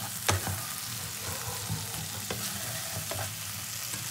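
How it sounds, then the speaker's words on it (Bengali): Spice paste with mutton fat being sautéed and stirred in a pan, giving a steady low sizzle with a few sharper scrapes of a spoon against the pan, close and moderately quiet, no voices. "আবারও আমি মশলাটাকে কষিয়ে নেব।"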